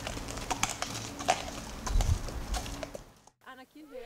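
Horse hooves clip-clop in an uneven rhythm close by during an outdoor photo shoot in the cold, with people talking over them before the sound fades and a voice continues alone.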